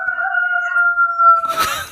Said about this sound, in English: if you want to have a little preview of what the rooster sounded like, here we go.